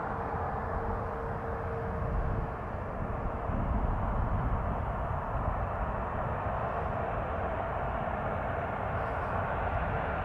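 An Air Canada airliner lands on runway 24 left at Toronto Pearson: a steady, broad jet-engine roar that holds at an even moderate level for the whole span, with no voices.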